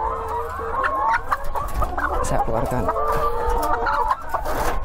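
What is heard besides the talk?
old layer hens clucking, about 88 weeks old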